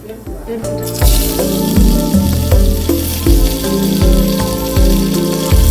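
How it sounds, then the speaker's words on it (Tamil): Fennel seeds and curry leaves splutter in hot oil for a mushroom biryani, a dense, bright crackling sizzle that starts abruptly and continues steadily, with musical tones and soft thumps running underneath. "அரை டீஸ்பூன் சோம்பு சேர்த்துக்கலாம் நல்ல படப்படன்னு பொரிஞ்சு வந்ததுக்கப்புறம் ஒரு கொத்து கருவேப்பிலை சேர்த்துக்கலாம்"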